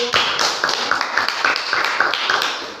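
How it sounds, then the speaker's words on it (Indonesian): Students in a classroom clapping for the blue group, a dense, steady patter of many hands with sharper individual claps standing out, fairly close and continuous throughout. "Tepuk tangan untuk kelompok biru."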